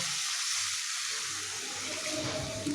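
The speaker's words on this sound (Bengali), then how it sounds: "এবারে দিয়ে দেবো পরিমাণ মতো জল" Water is poured into a pan of vegetarian vegetable curry after the spices are fried, making a steady, soft splashing and hissing that lasts for a few seconds with no talk.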